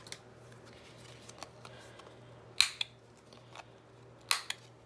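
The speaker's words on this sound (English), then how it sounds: "okay, need to trim all the edges." Scissors snipping along the edges of a handmade paper strawberry journal, with two sharp, close cutting bursts standing out against a quiet room hum and a few faint rustles of paper.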